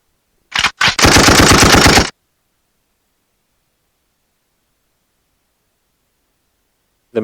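A gunshot sound effect played from a V8 sound board toy, a short loud burst of rapid-fire shots lasting about a second, followed by silence.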